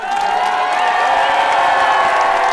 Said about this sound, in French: Applaudissez-vous, faites du bruit pour vous!